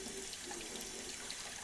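Warm water running steadily from a tap while catfish are being cleaned, a soft continuous hiss and splash that is fairly faint, with no voices.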